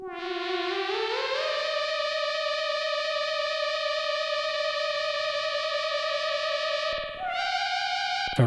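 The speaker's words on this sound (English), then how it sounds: "if we set our delay time to 0 and our feedback up quite high" A Stylophone Gen X-1 synthesizer tone glides upward, then holds steady with a metallic, echoing shimmer from a delay set to zero time with high feedback, like artificial reverb, before a brief dropout and a higher note.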